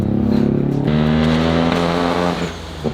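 Revving single-rotor engine from a 650cc Mazda with an SQV4 blow-off valve, a loud sustained engine drone that shifts pitch partway through, with a brief hiss of air venting near the end.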